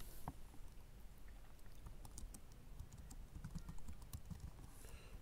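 Typing on a computer keyboard while writing HTML code in Visual Studio Code, a quiet run of uneven key clicks with small pauses, close and soft over faint room noise.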